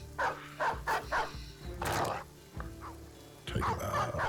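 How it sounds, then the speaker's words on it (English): Dog barks and growls come from a fantasy combat video game, Battle Brothers, as a dog chases a fleeing thug. There are several sharp, loud barks in bursts, with rough snarling in between. "Our dog is chasing down that thug as he runs."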